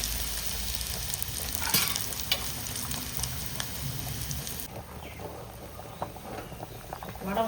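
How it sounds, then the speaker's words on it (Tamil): Vadavam seasoning crackles and sizzles steadily in hot oil as a tempering for a South Indian fish curry. The frying is close and continuous, then becomes a little softer about halfway through. "இப்போ மீன் குழம்புக்கு வடவத்தை தாளித்து கொட்டிக்கிறேன். அதுக்காக எண்ணெய் போட்டுக்கிறேன்."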